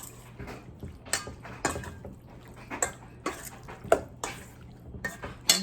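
A utensil stirs beef coated with a little mirin in a pot, making intermittent scraping and clinking knocks with soft wet sounds in between, close and fairly quiet.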